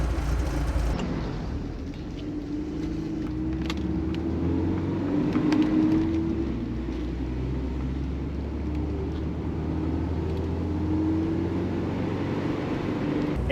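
A Porsche cruises the Tail of the Dragon road past freshly painted lines, its engine a low steady drone with smooth, gently shifting pitch and road rumble underneath, continuous and close throughout.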